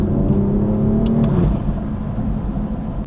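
A BMW M4 F82 fitted with downpipes and aftermarket intakes revs loudly on a road, its engine note climbing and then dropping off with a whooshing release, close and alone without talk.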